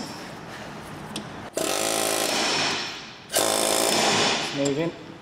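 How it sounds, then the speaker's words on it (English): Two long bursts from a pneumatic air hammer pounding on a stuck front wheel bearing and drive shaft assembly of a Mini Cooper S, loud rapid hammering close by, with a short mechanical clatter at the end. "Let's see if I can free it from the back here with the old air hammer."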